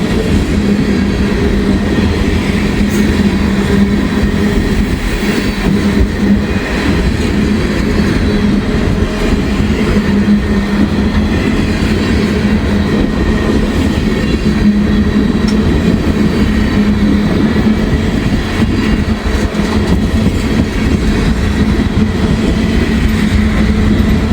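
Freight train with empty auto racks and ethanol tank cars rolling past, a loud continuous rumble and rattle of wheels on rail with a steady low drone throughout, close by and uninterrupted.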